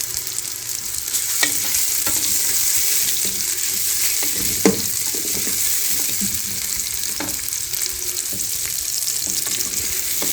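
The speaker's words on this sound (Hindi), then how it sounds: "2 अदद प्याज बारीक लच्छे वाले काट के इसमें फ्राई करना।" Finely sliced onions, two of them, frying in hot oil in a pressure cooker pot, a steady loud sizzle with occasional stirring clinks and scrapes.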